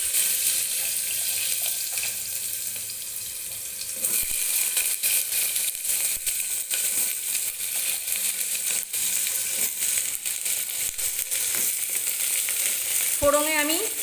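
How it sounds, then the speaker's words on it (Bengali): Potatoes and pointed gourd frying in oil tempered with five-spice, a continuous close hiss with scattered crackles that thickens about a third of the way through, then a brief scrape near the end. "ফোড়নে আমি 5 ফোড়ন দিয়ে নিলাম, তারপরে আলু পটলগুলোকে ছেড়ে নিলাম।"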